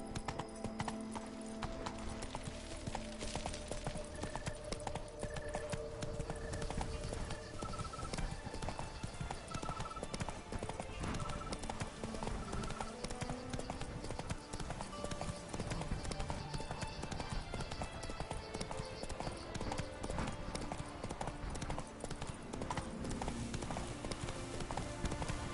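Roach, a horse in The Witcher 3 during the Toussaint knights' tournament, trots with a continuous clip-clop of hooves, a brisk steady rhythm running under music and game ambience, with a brief whinny.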